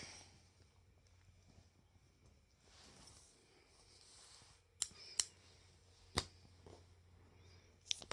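Scissors snip crocheted yarn on a small keepsake heart, several quiet, sharp clicks after a few seconds of faint rustling in a quiet room.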